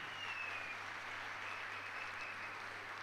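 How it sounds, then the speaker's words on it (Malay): Steady applause from an audience at a business recognition event, a dense even wash of clapping with no break, moderately loud throughout. "Satu tepukan."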